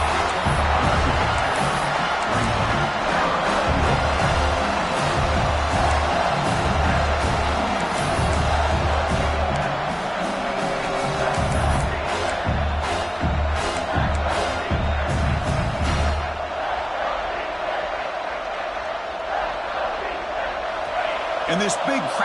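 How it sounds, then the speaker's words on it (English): A large stadium crowd at a football game roars steadily as the defense lines up near the goal line. The noise is loud and sustained, swelling in places, with a commentator's voice mixed in. "this big crowd doing everything possible to inspire this defense down here near the goal line"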